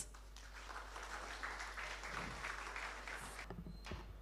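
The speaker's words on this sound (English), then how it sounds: "A good round of applause." An audience at a talk held at Raj Bhavan in Chennai gives a round of applause, heard as a soft, distant wash of clapping that holds steady for a few seconds before thinning out.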